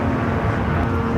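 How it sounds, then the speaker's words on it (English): Propeller airplane taking off from Phoenix Sky Harbor airport, a loud steady engine roar with a low droning hum, continuous and close, no voices. "Prop taking off"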